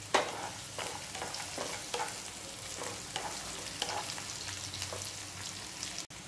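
Green chillies, onion and curry leaves fry in a pan for a vermicelli breakfast dish, a soft continuous sizzle with repeated light stirring scrapes at a steady rhythm, moderately quiet and without voices.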